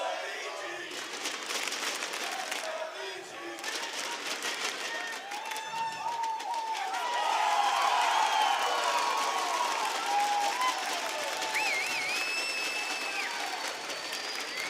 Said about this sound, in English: you can hear how this crowd want to get on with this